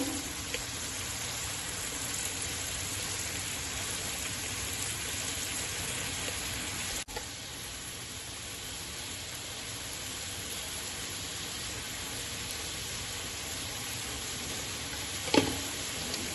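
Water goes into dry spices frying in oil, including coriander powder, for a Bengali katla fish tel jhal curry, giving a steady, soft hiss of sizzling that runs without pause, with one faint click midway.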